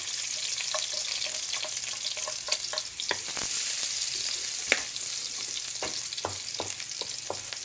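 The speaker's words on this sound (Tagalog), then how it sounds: "igisa na natin yung bawang, sibuyas, luya" Garlic, onion and ginger sauté in hot oil in a pan with a steady, low sizzle, punctuated by sharp ladle clicks and scrapes from stirring. No voices.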